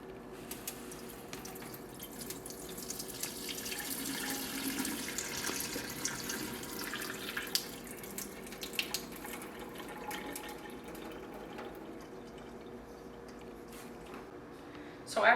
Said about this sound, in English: So after you've rinsed and drained your rice, you get your saucepan.